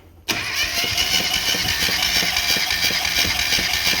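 A classic 998cc Mini engine cranks over with a quick, rhythmic chugging during a compression test after a brief quiet start, continuing steadily at close range.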